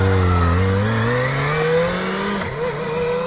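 A Kawasaki motorcycle engine, loud and close, revs with a rising pitch as the bike pulls away, then the note drops and steadies as it moves off, with no voices.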